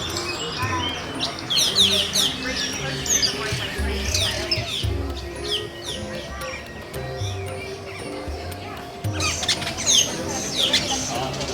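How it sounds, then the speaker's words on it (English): Many birds chirp, squawk and call at once in an aviary at Disney's Animal Kingdom, a busy overlapping chorus with bursts of sharp tweets and some low rustling underneath. "We are in an aviary now. There's birds all over the place."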